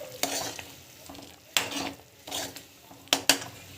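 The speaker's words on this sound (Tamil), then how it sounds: "நல்லா வந்து கொதிக்கட்டும்." Dhaba-style paneer masala curry simmering in a pan, with a steady low sizzle broken by three or four sharp scraping stirs of a spoon against the pan, close by and fairly loud.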